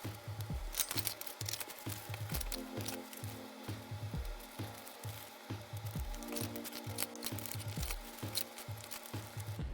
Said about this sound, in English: First, I'll fold up the template.